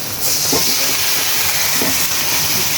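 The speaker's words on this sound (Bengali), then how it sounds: "ঘি কিন্তু গরম হয়ে গেছে এই পর্যায়ে এখন দিয়ে দিবে সেমাই হুম ঢেলে দাও" Vermicelli (semai) hits hot ghee with a loud, steady hissing sizzle that holds without a break for a few seconds, close and alone.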